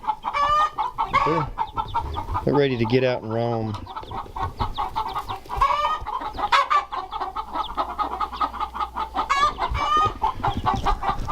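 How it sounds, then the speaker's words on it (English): Chickens clucking and squawking repeatedly, close by, with a person talking over them throughout. "I have to put this piece of metal over the top to keep the chickens"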